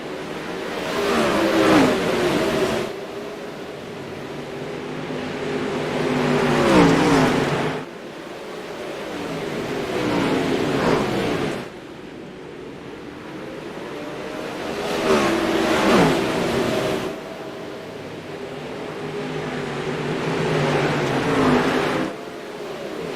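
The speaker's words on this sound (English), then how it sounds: "it is time to hear these 360s roar" 360 winged sprint cars racing on a dirt oval in the iRacing sim, engines roaring loudly as they rise and fall in repeated pass-by surges roughly every eight seconds, with no talk.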